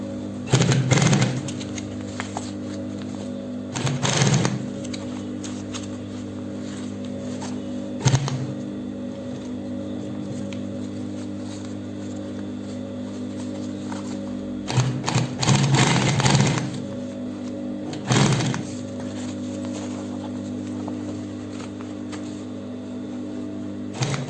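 Sewing machine stitching an Ankara fabric backpack joined with jean, a steady motor hum with repeated short bursts of rapid needle clatter, close and alone.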